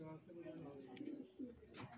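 Pet pigeons cooing close by, soft low throaty coos repeating in short phrases over a faint background.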